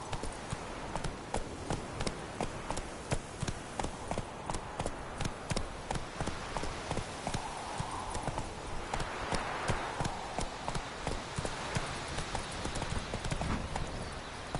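Hooves of Roach, the horse in The Witcher 3, pound out a fast regular gallop for the whole stretch, steady and moderately loud over a low wash of outdoor game ambience.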